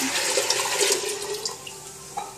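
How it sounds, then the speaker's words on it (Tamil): Water is poured into a pot for cooking rice, about eight tumblers' worth for coconut rice, making a steady, close splashing gush that tapers off toward the end. "அதனால் 8 டம்ளர் தண்ணி விட்டுருக்கேன்."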